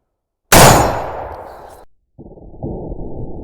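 A Winchester 1886 rifle in .50-110 fires a 300-grain bullet into a half-inch AR500 steel plate at close range. One loud shot and clang ring out and decay, followed by a quieter rumbling tail.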